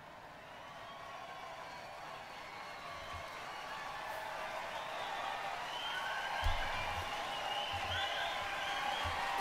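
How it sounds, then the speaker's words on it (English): A broad, steady crowd roar rises from people far below in a visual novel video game, a dense wash of massed voices that swells gradually louder. "a huge cheer, akin to the rumbling of the very earth itself, came from the people below"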